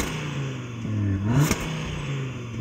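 Audi RS3 accelerating hard off the line in a drag race, a brief rising engine roar heard from a distance, swelling and then fading away.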